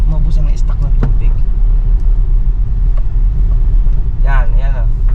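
A water delivery tank truck rumbles nearby with a loud, steady low engine drone, while people talk briefly over it.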